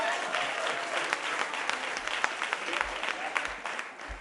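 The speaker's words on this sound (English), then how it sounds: "Let's give him a round of applause" A crowd at a Brooklyn political rally applauds for Robert Carnegie, steady mid-distance clapping with scattered sharper claps and a faint murmur of voices underneath.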